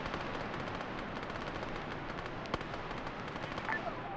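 Gunfire in the Arma 3 military game, shooting from raised platforms down into a courtyard: a steady dense stream of distant rattling shots and bursts, with one sharper, louder crack standing out midway.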